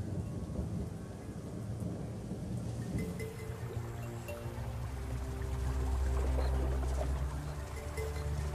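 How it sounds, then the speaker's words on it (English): Rain and rolling thunder breaking a drought on the African savanna, a steady downpour with deep rumbles building louder toward the end, birds calling faintly in the background. "the rains came"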